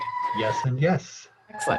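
A siren passes outside, its steady wailing tone running faintly beneath a person speaking indoors over a remote call.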